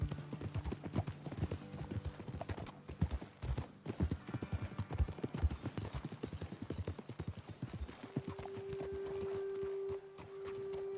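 Horse hooves clip-clop steadily in Red Dead Redemption 2, several horses walking on a trail with an occasional whinny mixed in, close and fairly loud, followed by a steady tonal hum near the end.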